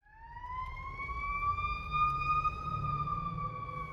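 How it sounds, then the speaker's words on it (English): Ambulance siren passing along a road: a loud, steady wailing tone with strong harmonics that rises and holds, heard alone over low rumble with no talking. "You never hear an ambulance cruising through the forest when you're out fishing for some trout."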